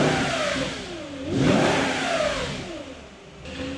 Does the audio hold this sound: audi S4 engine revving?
yes